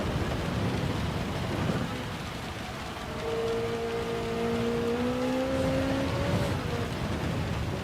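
Heavy rain hisses steadily in Gran Turismo 7 during a wet GTWS Nations race, a dense constant wash with a Ferrari race car engine droning and rising in pitch underneath.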